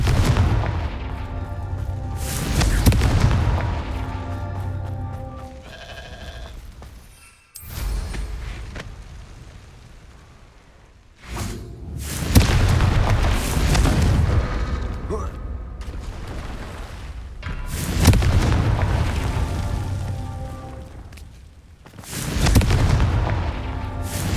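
Confringo fire spells blast in Hogwarts Legacy on PS5: a run of heavy, loud booming explosions with rumbling tails, coming in bursts separated by short quieter gaps.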